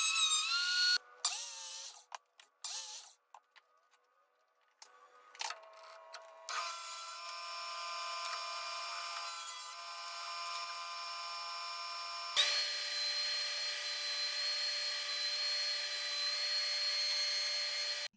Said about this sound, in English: So, planer, miter saw, table saw, then back to the workbench.